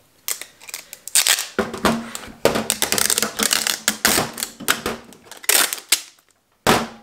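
A tape gun seals a shipping package for a soap order, with repeated loud screeching pulls of packing tape in bursts, close and alone, ending in a final rip.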